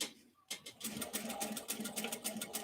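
A sewing machine stitches a bucket bag, its needle thumping in a fast, steady, even rhythm close by after a brief quiet start.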